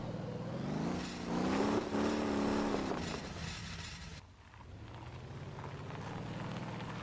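A car engine in the driving game Motor Town starts and then reverses, a steady motor hum that rises and wavers in pitch before dropping to a lower, quieter drone.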